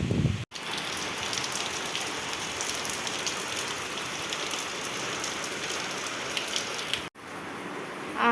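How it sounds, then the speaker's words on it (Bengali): Morning rain falls steadily as a dense, even hiss of drops on surfaces, continuous and fairly close, with no voices. "এই যে দেখো সকাল সকাল এখন বৃষ্টি এখন আরম্ভ হয়ে গেছে"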